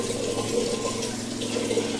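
Water is poured from a glass into a cooking pot for a semolina dish, a steady close splashing and running rush that continues evenly throughout without a break.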